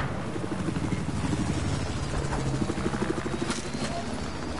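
A helicopter in the video game Battlefield 4, a steady rotor chop and engine roar that stays loud and close throughout, with no talk over it.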